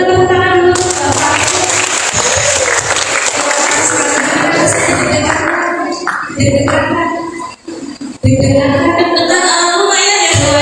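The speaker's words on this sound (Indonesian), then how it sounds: "Oke, boleh kita tepuk tangan dulu." An audience claps together at a job fair interview workshop, with loud, dense sustained applause and some crowd noise that fades briefly before picking up again.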